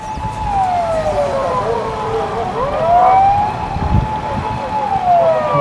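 An ambulance siren wails, sweeping up and down continuously over steady road traffic noise near a hospital in Japan, loud and fairly close.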